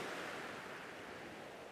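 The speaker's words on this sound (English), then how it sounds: "the tide is going out, so the waves aren't coming in as far" Ocean waves wash softly onto a shore as the tide goes out, a continuous faint broadband surf rush with no distinct breaks and no voices.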